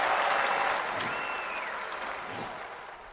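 Crowd applause at a London 2012 Olympic shooting event in a video game, a broad steady wash of clapping that starts loud and slowly fades over a few seconds, with no talk.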